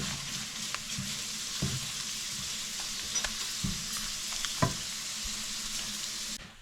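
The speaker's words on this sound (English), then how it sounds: "then we just stir this up a little bit more" Nepali bacon chicken sizzles steadily in a pan, with a few spaced spatula scrapes and clinks as it is stirred, heard close up and without any speech.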